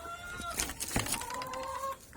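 Laying hens in a pen on a small farm clucking nearby, with a few drawn-out tonal calls and short clucks following one another, fairly loud and without talk.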